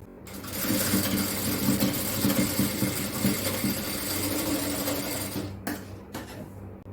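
An electric sewing machine stitches a seam on an XXL yoke nighty, whirring with a busy rhythmic chatter for several seconds before stopping abruptly. A few faint clicks follow.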